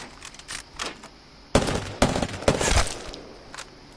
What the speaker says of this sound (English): Now the Kraber is a sniper.